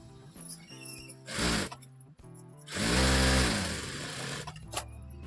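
Sewing machine joining blouse sleeve pieces, heard in short whirring runs, one brief burst and then a longer, louder stretch, over a faint background hum with some clicking and no speech.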